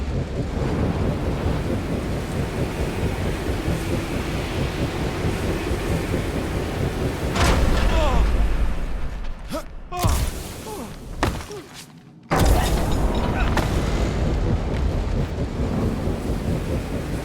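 Howling wind storm hazard in the video game Marvel's Guardians of the Galaxy, a loud, dense roaring gust with heavy rumbling thuds, briefly dropping out before surging back.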